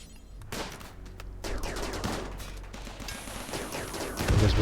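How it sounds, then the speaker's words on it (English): Rapid volleys of gunfire from a turret and colonists in a Rimworld Alpha 12 firefight, dense overlapping shots and bursts building louder toward the end, with no talking. "he's firing from here, and he's firing at that that gun"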